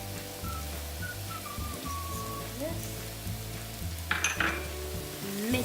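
Onions fry in a pan as cumin and paprika are stirred in, making a soft continuous sizzle with light scraping, and faint background sounds underneath.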